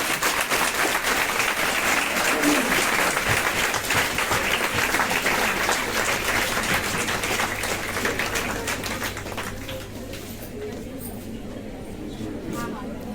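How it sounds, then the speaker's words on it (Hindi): A standing audience at a KGMU women's safety event claps loudly in a dense, sustained burst of applause that gradually thins out toward the end. "सब लोग खड़े होके खूब जोर से तालियां बजा के इसको स्वागत करें"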